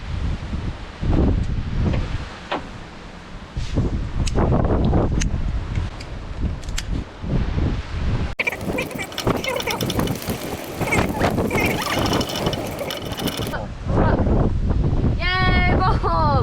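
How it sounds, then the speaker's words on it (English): Strong wind buffets the microphone in heavy rumbling gusts, with rustling and whooshing throughout and a voice briefly audible near the end. "It's so windy."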